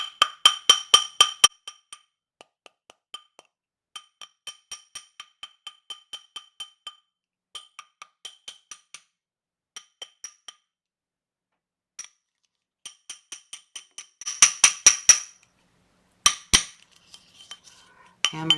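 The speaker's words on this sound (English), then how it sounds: "and then I'm going to hammer again." A metal ring shank is hammered on a steel ring mandrel, giving bright, ringing metallic taps in quick bursts and spaced single strikes with short pauses between, close and crisp, with no talking.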